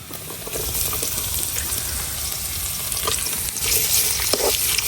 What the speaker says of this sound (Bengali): যে রসুন গুলা কিন্তু হালকা হালকা এই যে ভাজা হয়ে গেছে। তো এই অবস্থায় এখন আমি পেঁয়াজ গুলা দিয়ে দেন।